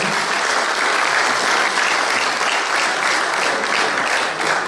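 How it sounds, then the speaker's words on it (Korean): Sustained audience applause at a book concert, a dense even wash of clapping that stays loud and steady throughout without any speech over it. "박수 부탁드립니다."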